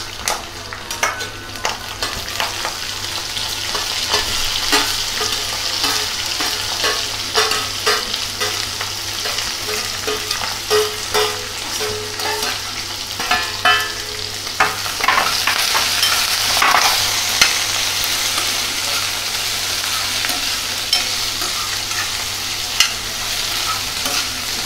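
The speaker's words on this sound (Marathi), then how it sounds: "आता आपल्याला कांद्याची पात सुद्धा या तेलामध्ये परतवून घ्यायची आहे" Spring onions, green chilies and peanuts stir-fried in hot oil, a continuous close sizzle with frequent spatula scrapes and clinks against the pan throughout, no voices.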